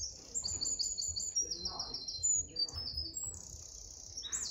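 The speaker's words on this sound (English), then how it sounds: "Hear the birds." Small birds chirp and tweet outdoors on a clear morning, a busy run of high, quick calls layered over soft background rumble, fairly faint and with no clear talk.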